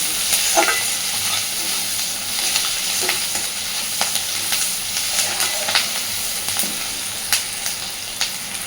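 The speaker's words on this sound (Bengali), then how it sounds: "পেঁয়াজ কাঁচা লঙ্কাটাকে খুব বেশি লালচে করে ভাজবো না, জাস্ট হালকা একটু ভেজে নেব।" Onion and green chili fry gently in a pan, giving a steady close sizzle with scattered clicks and scrapes as the pieces are stirred.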